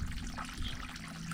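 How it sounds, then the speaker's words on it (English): Water from a solar-powered pump runs steadily through a PVC line into a tank, a continuous low, full trickle and splash heard fairly close with no break. "You see the water flowing into the tank"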